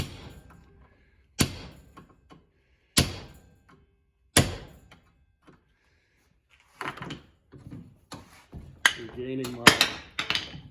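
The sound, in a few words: knocking a trailing arm bushing with a hammer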